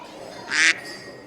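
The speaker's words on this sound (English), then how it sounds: "ducks are absolutely loving it. You can hear them quacking" A short burst of duck quacking, fairly close and clear, over a quiet outdoor background at a farm shop in the UK in wet weather.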